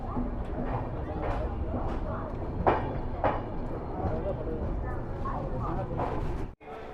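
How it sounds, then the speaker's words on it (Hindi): The Telangana Express pulls into Kazipet Junction, a steady rumbling carriage interior full of crowd murmur and passenger voices, with a few sharp knocks and a sudden brief dropout near the end. "तो दोस्तों हमारी ट्रेन अपनी दूसरी स्टॉप काजीपेट जंक्शन पहुंच गई है।"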